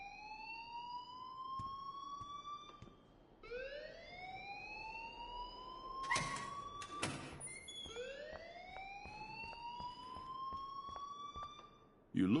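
A school alarm siren in the video game Life is Strange, with three rising electronic wails that hold at a steady pitch. Short bursts of other noise sit between them, and the whole sound is faint and distant.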